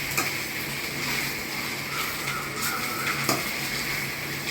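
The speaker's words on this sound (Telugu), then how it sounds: "మనం మొత్తం ఇదంతా మిక్స్ చేసుకోవాలి బాగా." Chicken curry ingredients are stirred in a hot pan with oil, producing a steady close sizzle and frying hiss with scattered scrapes and clinks of a utensil against the metal.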